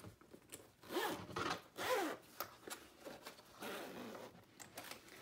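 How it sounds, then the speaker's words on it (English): A zipper on a sewn honeycomb cover is pulled open in several short rasping strokes, close and clear in a quiet room. "now we're going to unzip it"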